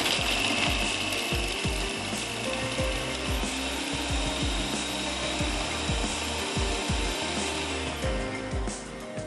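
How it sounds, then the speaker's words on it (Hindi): A grinder grinding ginger, garlic, chili and onion: a continuous mechanical whir with rapid, rhythmic rattling and knocking as the pieces tumble against the jar, close and steady throughout. "इसको हम अच्छा सा पीस लेते हैं ताकि अदरक, लहसुन, मिर्च, प्याज,"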